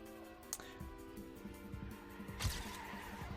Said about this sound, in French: Ça drift.